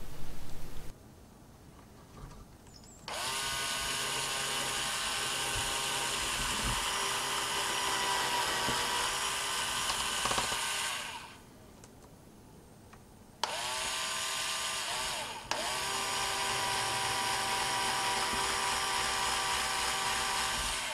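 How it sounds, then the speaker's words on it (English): A high-pitched power drill whirs steadily in two long bursts separated by a brief pause, drilling pilot holes for screws through a solenoid mounting jig, close and alone. "then drill through the two pilot holes for the screws"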